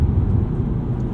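A deep, steady engine rumble from a 2007 Audi RS4 while driving fills the clip, loud and close, with a low booming roar and no talking.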